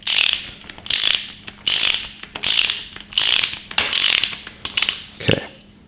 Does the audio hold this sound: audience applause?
no